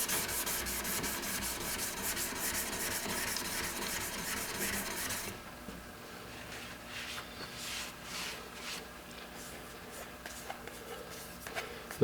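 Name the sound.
card scraper rubbed across a sharpening stone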